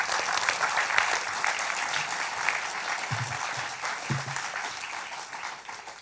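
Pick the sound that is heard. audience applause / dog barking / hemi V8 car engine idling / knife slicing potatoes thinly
audience applause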